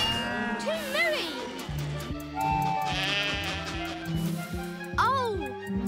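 Cartoon sheep bleats in a children's animated show, a few wavering calls rising over music and other sound effects, with voices speaking around them.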